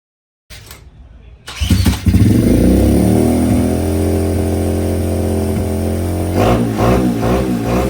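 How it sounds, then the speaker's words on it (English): A 125cc motorcycle engine starts after a short cranking and settles into a loud, steady running idle, close by, with a slight rise in revs near the end. "the 125cc finally runs, finally rides"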